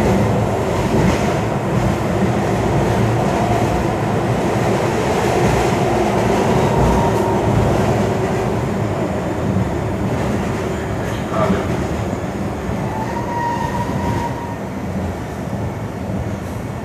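Inside a moving Miami Metro train, a steady rumble and rattle of wheels on rails carries on throughout, with faint clacks, brief squeals and some background voices under the continuous noise.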